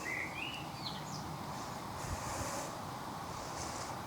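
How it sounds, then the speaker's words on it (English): Wind blows outdoors in a steady, rushing hiss with low buffeting on the microphone, constant over several seconds, while faint bird chirps come through early on. "It's feeling a bit windy."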